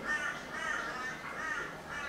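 A bird squawks and caws in a harsh, repeated rasp, fairly faint and steady, with no voices over it.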